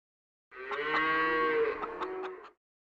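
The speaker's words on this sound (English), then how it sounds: "Cow." A single long cow moo, a loud close bellow lasting about two seconds with a rich, harmonic drawn-out tone that rises then fades, heard alone.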